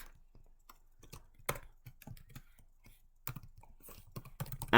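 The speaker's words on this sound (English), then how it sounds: "And we're going to type in" Fast, irregular clicks of typing on a computer keyboard, close and fairly quiet, coming in uneven bursts while entering code into a spreadsheet.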